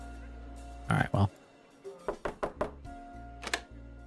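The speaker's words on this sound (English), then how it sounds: "Knocks on the door and hears a subtle sound of it unlocking" A series of knocks on a door, first two heavy thumps, then a quick run of lighter raps, close and distinct over a steady low hum.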